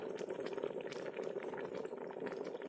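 A scallop and spinach mixture simmers in a Ninja Foodi, a soft continuous bubbling and gurgling, fairly quiet and close, cutting off abruptly at the end; no talking.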